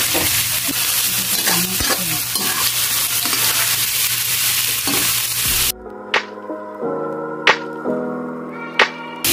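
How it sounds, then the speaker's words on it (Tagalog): Meat browning in a pan with garlic and onion for a dry pork blood stew, a steady loud sizzle and frying hiss, then quieter crackling broken by a few sharp stirring scrapes. "Pinapapula ko muna yung karne bago ko ilaglag yung ano, yung sugo."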